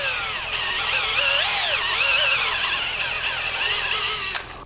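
Power drill boring a hole into a plastic plunger shaft during an epoxy repair, a steady close whine with shifting pitch as the bit bites, running continuously before stopping abruptly near the end.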